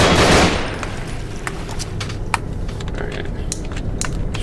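Gunfire in the horror video game Nightmare House 2 comes as a burst of sharp, rapid shots with scattered clicks and clatter afterward, loud and close.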